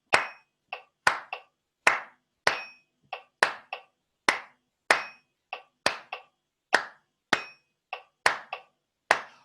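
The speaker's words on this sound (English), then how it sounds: "I'll start clapping the rhythm" A single person claps a steady rhythm during a warm-up session in F major, sharp close hand claps in a repeating pattern with gaps between groups, each clap loud and distinct against silence.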